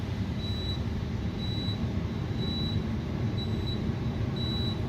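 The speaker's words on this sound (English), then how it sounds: "that's my UPS alarm in there. It's nothing to do with flight sim" A UPS alarm beeps in a steady rhythm of short, evenly spaced high tones, five or so in a few seconds, sounding from another room over a constant low hum.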